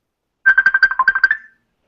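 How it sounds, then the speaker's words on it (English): A phone ringtone plays a rapid string of about a dozen bright, evenly spaced electronic beeps for about a second, loud and clear against silence. "Somebody's phone."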